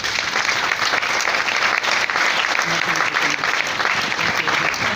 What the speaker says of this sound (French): On va l'applaudir pour l'encourager.